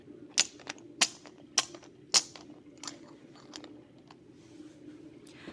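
Printer in a casino cage feeding out a marker slip, giving four sharp evenly spaced clacks followed by a few lighter ticks, close and fairly quiet over a low steady room hum.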